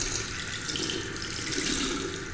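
Steady running tap water as a character washes hands at a bathroom sink in the game Fahrenheit: Indigo Prophecy Remastered, a continuous close hiss and splash with no talk.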